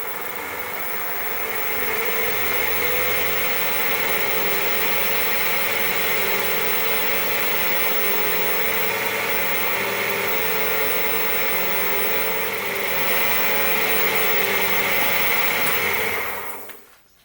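A wood lathe spins steadily at about 1000 RPM while polishing a wood and Alumilite pepper mill, giving a constant loud motor hum with a faint friction hiss that winds down abruptly at the end.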